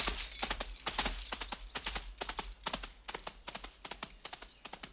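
Horse hooves clip-clop in a steady brisk rhythm on a hard road, a run of crisp repeated knocks at moderate distance with a low rumble underneath, in a period vampire film setting.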